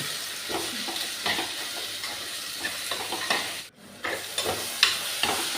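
Chopped onions with salt fry in a pan for a tuna fish curry, a steady close sizzle broken by repeated scraping stirs and one brief drop in the noise, with no talking.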